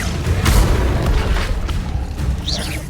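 A fire spell goes off in Hogwarts Legacy as a loud, dense whooshing burst with booming low rumble that fills the whole moment, without any talking.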